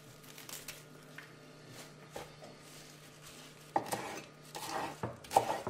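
A knife chops coriander and onion coarsely on a board in a home kitchen. Irregular knocks come sparse and soft at first, then grow quicker and louder toward the end, with no voices.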